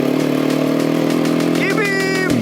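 A quad bike engine runs steady and loud on an offroad track in Spain, a close continuous drone that rises slightly in pitch near the end.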